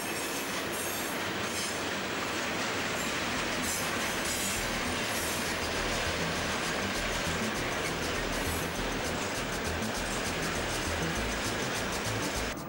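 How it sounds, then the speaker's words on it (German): A new class 152 electric freight locomotive hauls a heavy 1,500-tonne freight train through a freight yard, a loud, steady rolling rumble with rhythmic wheel clatter and occasional squealing of the wheels. "Regelmäßig sind hier die neuen Güterzugloks anzutreffen."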